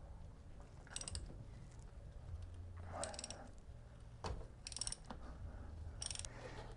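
A 3/4 ratchet loosens a drain bolt on a Triumph Sprint ST 955i during an oil change, giving faint, intermittent ratcheting clicks in short bursts against quiet background.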